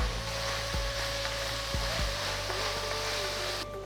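Chopped tomatoes sauté in a pan for Kumbakonam kadappa, giving a faint, steady sizzle with a few soft clicks and a low background hum, with no one talking.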